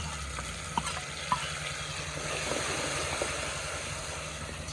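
Spices and chillies frying in hot oil for a village-style tempering, a steady close sizzle and hiss with a couple of soft clinks from stirring, no voices.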